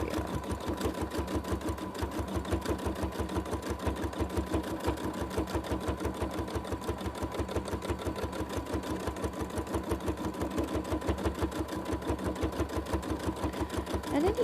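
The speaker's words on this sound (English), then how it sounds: "any of these can be done on your sit-down machine like I'm doing" A sit-down sewing machine running steadily for free-motion quilting, its needle stitching in a fast, even rhythm that stays close and constant throughout with no pauses.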